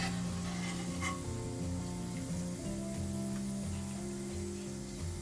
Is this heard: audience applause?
no